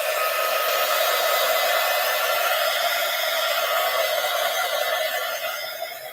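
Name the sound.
heat gun drying paint on a postcard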